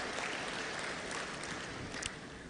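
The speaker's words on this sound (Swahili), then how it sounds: "naomba wote kwa pamoja tumpigie makofi Mheshimiwa Rais" Audience applause for the President at a Tanzanian public address, a steady broadband wash of clapping that holds evenly for the whole stretch at moderate loudness, with no voice over it.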